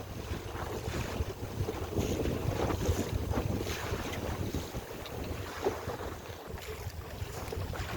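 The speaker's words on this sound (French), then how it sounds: "Enfin un peu de voile. Le vent s'est levé" Steady wind gusting across a sailboat under sail off the coast near Fort Cigogne, with waves washing against the hull, continuous and fairly loud, no voices.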